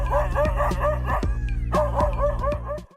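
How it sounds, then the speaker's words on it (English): A dog barks loudly and repeatedly at a leopard in a forest, a rapid string of sharp close barks, a short pause, then another burst. "it unleashes a barrage of loud barks, echoing through the forest"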